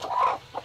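A mother hen gives a short clucking call, one drawn-out cluck followed by a brief softer one, close and moderately loud with no talk.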